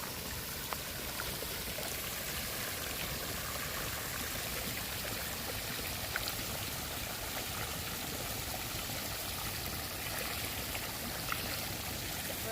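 Released water flows steadily where crabs are caught in summer, a faint, continuous rushing stream sound heard from a distance with no voices over it.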